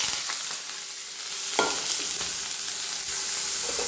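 Dried red chilies and onion frying in hot oil for a drumstick-leaf and egg stir-fry, a steady close sizzle with a louder crackle burst as ingredients hit the pan, plus light stirring scrapes throughout.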